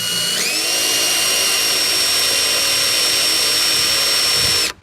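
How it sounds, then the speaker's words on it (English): A power drill boring a pilot hole in a door for a bolt, lubricated with oil, whining at a steady high pitch for several seconds before cutting off abruptly at the end. "So I'm gonna drill a pilot hole, and then we're gonna drill this out to the size that we need."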